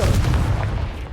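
A fire spell blast goes off in the fantasy action game Hogwarts Legacy, a loud deep boom with a sustained low rumble lasting about a second, without talk.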